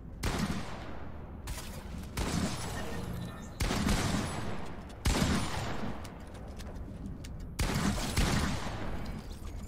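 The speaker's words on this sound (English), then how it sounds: "Stop dodging my harpoon gun!" Repeated bursts of weapon fire in Fortnite Battle Royale, around five separate volleys with sharp onsets and short gaps, loud and close, with game action and occasional voices under it.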